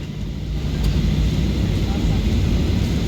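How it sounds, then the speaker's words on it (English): A Ryanair Boeing 737-800 still rolling after landing, its engine and cabin rumble loud and steady throughout, heard from inside the cabin. "Remain seated, please. The aircraft is still moving."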